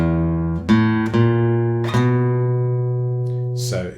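Guitar playing a blues walking bass line in E: four plucked low notes step upward in an even rhythm, each ringing on clearly and close, with no voice over them.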